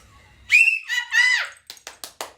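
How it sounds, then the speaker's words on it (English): Two sharp, shrill whistle blasts in quick succession, followed by several short, breathy chirps. "She blows that whistle, and now I have my own."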